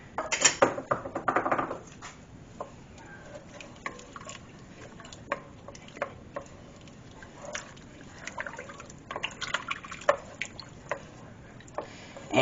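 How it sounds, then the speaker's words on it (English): Potato soup with parsley is stirred in a pot, giving soft liquid sloshing and scattered light clinks of a utensil against the pot, heard close and fairly quiet. "Alright, we're going to mix that up."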